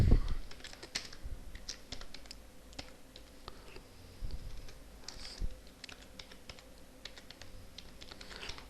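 Keys tapped on a computer keyboard while entering text in a website theme customization panel, a faint, irregular run of light clicks and taps with occasional louder strokes, no voices.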